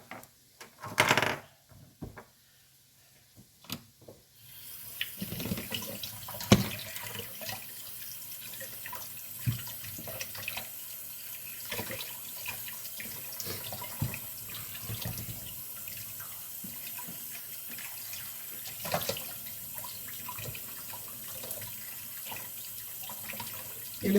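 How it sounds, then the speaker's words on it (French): Bell peppers rinsed under a running kitchen tap, water streaming steadily into a sink with small clatters and drips, starting after a few seconds of quiet handling and continuing close by without talk. "Je vais les passer un peu sous l'eau."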